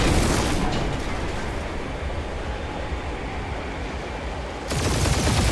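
Dense gunfire and explosions fill a combat scene in the Guardians of the Galaxy video game, a loud, continuous barrage of rumbling booms and rapid shots that swells again at the end, with no speech.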